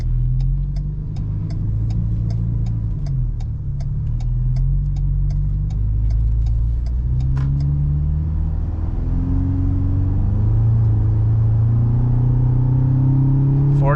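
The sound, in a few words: pickup truck engine accelerating, exhaust note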